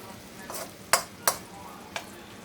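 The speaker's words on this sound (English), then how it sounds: "I'm trying to break this butter up." A stick of butter is broken up in a pan while it melts, a soft sizzle punctuated by three or four sharp scraping taps from the utensil, with no talking.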